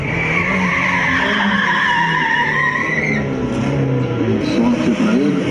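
Car tires skidding and smoking during a drift burnout at a stunt show, with a loud continuous screech wavering in pitch over a revving engine while people talk.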